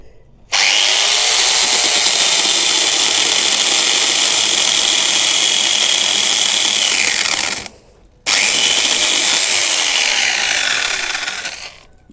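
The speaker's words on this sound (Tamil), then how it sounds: "கட்டை சூப்பராக வெட்டிருச்சு" A homemade chainsaw bites into a wooden log with a loud, harsh, high-pitched whine that holds steady for about seven seconds, cuts out briefly, then returns for a second long burst before stopping.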